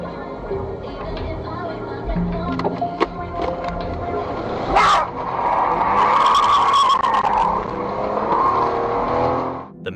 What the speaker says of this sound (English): As the screeching of tires fills the air, the motorist speeds away.